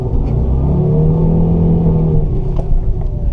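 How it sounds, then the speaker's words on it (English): A car without traction control spins its tires in snow, the engine revving in a loud, steady drone with a rising whine as the wheels keep spinning. "you're just spinning that whole time, lighting the tires up"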